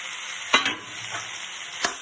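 Taidu, a root vegetable, tipped into roasted masala in a pan on a gas stove, giving a dense hissing sizzle with two sharp scraping stirs, close and without talk.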